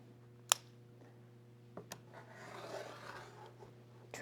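A rotary cutter trims quilt fabric along a ruler with a soft, quiet rolling scrape lasting a couple of seconds, preceded by a sharp little click and a light tap.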